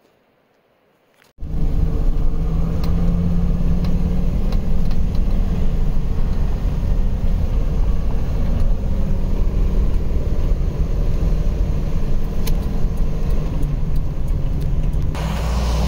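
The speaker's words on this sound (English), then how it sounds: "we got the dump trailer all filled up, and we're hitting the road" Truck towing a filled dump trailer along a road, giving a continuous loud rumble of engine and road noise from inside the cab with occasional rattles, lasting throughout.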